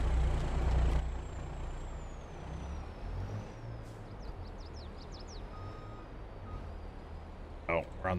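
A truck in Farming Simulator 22 gives a hiss of air brakes at the start, then low engine idle with faint whistling tones and brief chirps, ending in a short rattling burst.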